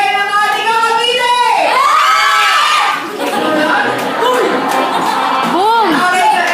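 Party crowd with children at a seventh birthday celebration in Cavite, loud continuous shouting, whooping and cheering filling the room, with excited high voices rising and falling throughout.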